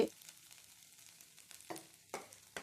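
Egg rice with turmeric powder sizzles in a hot pan while a utensil stirs it, with a few distinct scraping strokes over a steady frying hiss.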